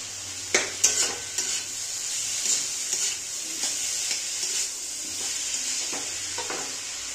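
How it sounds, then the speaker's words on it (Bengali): Bottle gourd and ginger being stirred in a frying pan with a steady sizzle, broken by several sharp scrapes and clinks of the spatula against the pan. "এটাও একটুখানি নাড়াচাড়া করে নেব।"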